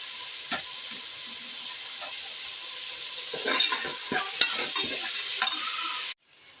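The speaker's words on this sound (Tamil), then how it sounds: "இது நல்லா சேர்த்து வதக்கிட்டு வரும்." Mixed vegetables and green peas sauté in a pan for veg biryani, with a steady sizzle broken by scraping stirs that grow busier midway, then the sound cuts off abruptly near the end.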